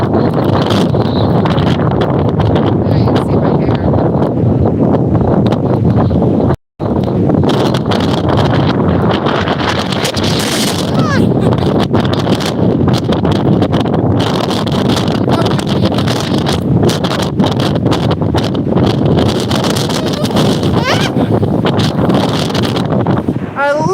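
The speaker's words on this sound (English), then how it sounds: "can you guys hear the wind?" Strong gusty wind roars and buffets the microphone outdoors, a continuous rushing noise with rustling, briefly cutting out once before resuming just as loud.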